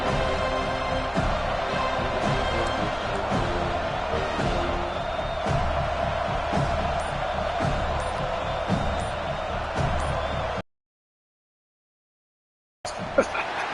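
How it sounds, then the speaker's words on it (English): Stadium crowd roars steadily through a college football field goal attempt between Florida and Florida State, a dense, loud wall of noise with scattered shouts, cutting out abruptly near the end before briefly resuming. "This crowd trying to do its part to get inside the kicker's head"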